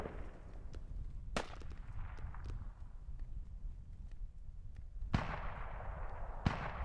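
A BTR armored vehicle firing in an online multiplayer war game, sharp distant bursts and cracks spaced irregularly, with two louder reports near the end over a low ambient rumble.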